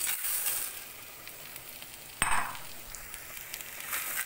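Noodles tipped into a pan of frying sofrito for a prawn and salt cod fideos dish, giving a quiet steady sizzle with a sharper burst of crackle partway through, no talking.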